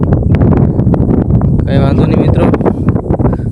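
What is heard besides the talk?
strong wind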